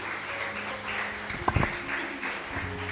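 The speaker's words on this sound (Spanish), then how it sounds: "Dale un aplauso al que vive." A church congregation claps in a dense, steady wash of applause, moderately loud and continuous, with a few sharper claps standing out midway.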